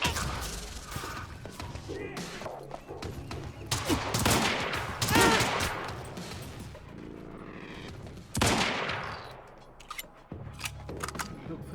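Dense gunfire fills a Quantum Break firefight, with rapid overlapping bursts and heavy thuds, loud and close, surging in waves with brief lulls.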